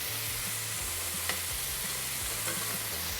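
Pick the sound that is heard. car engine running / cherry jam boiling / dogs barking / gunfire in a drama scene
cherry jam boiling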